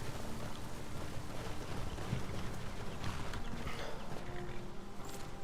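Horses plod along a trail in the video game Skyrim, their hooves clopping in a steady, continuous rhythm against a dense bed of ambient game noise at moderate loudness.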